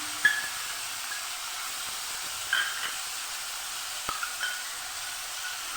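Chopped garlic and onion frying in oil in a pan, a faint steady hiss broken by a few soft spits and pops.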